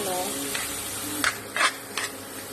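Vinegar is poured into a sizzling pan of dinuguan, Filipino pork blood stew, giving a steady frying hiss with a few short louder bursts and faint stirring scrapes, close up and without talk.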